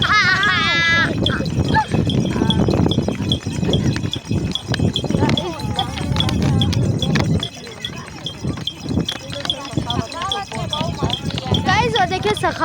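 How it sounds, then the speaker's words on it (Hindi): Donkey cart hooves clip-clop in a steady rhythm along a road, mixed with a loud bustle of voices and chatter that nearly covers them, with a few bleating animal calls near the start and the end. "और अगेन हम लोग गधा गाड़ी के सफर में निकल चुके हैं।"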